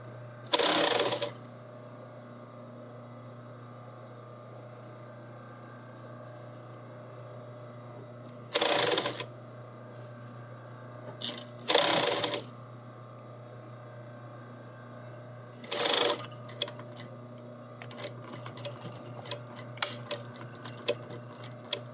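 A sewing machine stitches a sleeve onto a garment in short bursts of rapid mechanical whirring, with quiet pauses and a low steady hum between runs, plus faint clicks and handling sounds toward the end.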